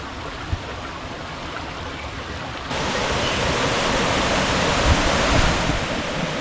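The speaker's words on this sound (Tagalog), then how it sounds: "Flowing water." River water rushes steadily near waterfalls on a trekking trail, a dense, continuous roar with no talk that grows louder partway through.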